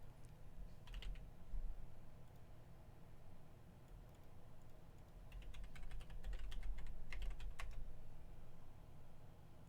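Fingers tap on a computer keyboard in quick irregular bursts, soft and fairly close, with a short run early on and a busier flurry of keystrokes later over a quiet steady room hiss.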